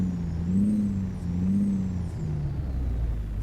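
A Kenworth T908 truck with a modded exhaust in American Truck Simulator drones steadily, its low engine note rising and falling as the revs change, loud and continuous with a faint high whine above.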